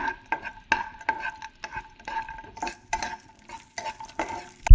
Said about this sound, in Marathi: हे सगळे ड्रायफ्रूट्स मी छान भाजून घेणार आहे परतून घेणार आहे